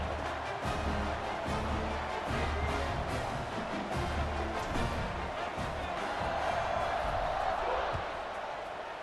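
A stadium crowd in the College Football 26 video game keeps up a dense, steady roar before a kickoff, loud and unbroken throughout, with a commentator's voice running under it.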